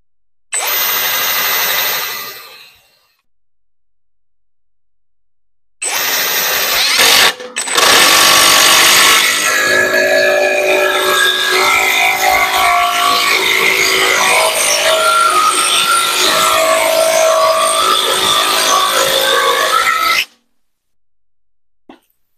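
Dnipro-M TD-12 cordless impact driver driving a 260 mm screw through three wooden beams and a table, a short burst first, then a long, loud, continuous hammering run of about fifteen seconds before stopping.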